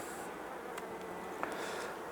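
Steady, dense insect buzzing from a mass of bees, continuous and fairly close, with a few faint clicks and knocks.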